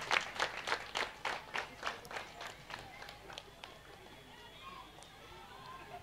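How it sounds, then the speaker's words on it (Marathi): At an outdoor cricket prize ceremony, a crowd bursts into loud rhythmic clapping that rises in regular beats, then fades into scattered claps and background murmur. "एकदा जोरदार टाळ्या वाजवा"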